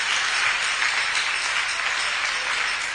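An audience at a meeting with small scale miners, artisans and youth groups applauds in a dense, even wash of clapping that holds steady at moderate loudness with no talking.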